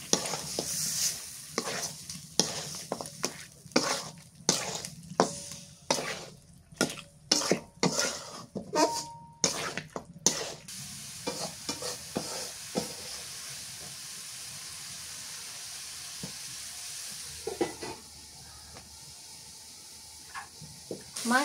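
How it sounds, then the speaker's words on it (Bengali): Marinated goat meat goes into spices and is stir-fried in a pan, with loud rhythmic scraping and clanking of a spoon against metal over a steady sizzle that fades into a quieter fry. "মশলা কষানো হয়ে গেছে, এবার এই যে মাখায় রাখছিলাম এই মাংস দিয়ে দিই"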